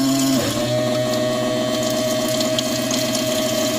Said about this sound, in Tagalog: tubig na po labas yan na mainit dahil lilinisin yung mga cup dyan sa loob